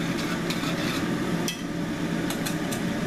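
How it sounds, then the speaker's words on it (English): A whisk scrapes and taps steadily in a pot of sauce for Swedish meatballs, a busy close rhythmic clatter with a few sharper metallic ticks, and no voices. "We're gonna whisk that in"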